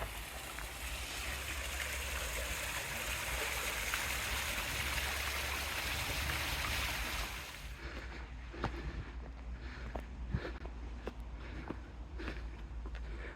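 Steady rushing water fills the first half, a dense broadband roar that suddenly drops away, leaving quieter trickling and scattered clicks.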